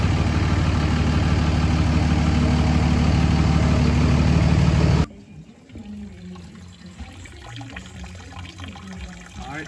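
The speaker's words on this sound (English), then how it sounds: "So now as the coolant's draining" Engine coolant draining from a truck, a loud steady gushing rush for about five seconds that abruptly cuts to a quieter background with faint voices.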